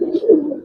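Giribaz pigeons in a loft give a short, soft coo, a single low burbling call heard close and alone.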